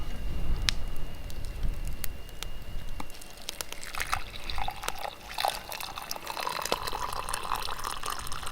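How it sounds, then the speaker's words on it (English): Hot water poured into a teacup holding wintergreen leaves and berries, starting with scattered drips and clinks, then building into a gurgling, trickling fill that grows busier toward the end, close and fairly quiet. "And add your hot water."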